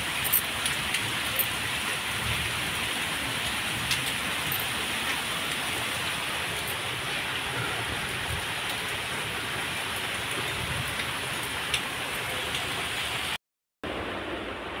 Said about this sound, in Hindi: तो देख सकते हैं इस तरीके से बारिश।